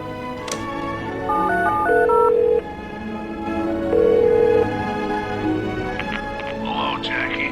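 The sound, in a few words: telephone dialing in The Darkness video game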